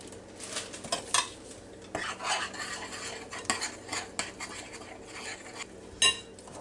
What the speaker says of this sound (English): Just get them stirred up just a little bit.